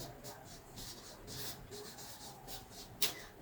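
Pen or marker scratching a label onto a paper sewing pattern for shorts, soft and close, in short strokes with a brief sharp tap near the end.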